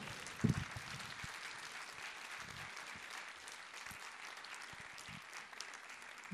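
Quiet, steady audience applause at a talk or conference session, heard from some distance and continuing evenly throughout with no voices.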